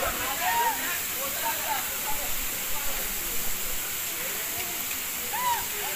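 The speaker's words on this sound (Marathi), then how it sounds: "हा बघा धबधबा" Heavy rush of a waterfall at Raigad fort after a downpour, a steady broadband roar that fills the whole stretch, with faint voices now and then underneath.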